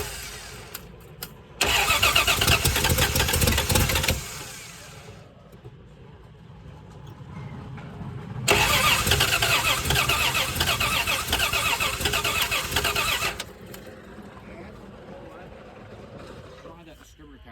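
A 1978 Plymouth Volare, pulled from a junkyard after four years of sitting, cranks in two long loud bursts of engine noise, the second running several seconds, with people talking between attempts.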